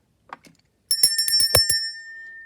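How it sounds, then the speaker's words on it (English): Small bell struck several times in quick succession, bright ringing tones that leave a sustained shimmer, preceded by a couple of faint soft handling taps. "I am going to try to remember to ring the bell"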